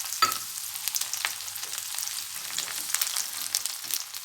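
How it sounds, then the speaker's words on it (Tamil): Crushed garlic cloves fry in hot oil alongside green gram, a continuous close crackling sizzle with small popping spatters throughout and no voices. "இப்போ தட்டி வச்ச பூண்டு ஒரு பத்து பன்னெண்டு பல் சொன்னேன் இல்லையா தட்டி வச்சுருக்கேன் அந்த பூண்டையும் இதில் போட்டுருவோம்"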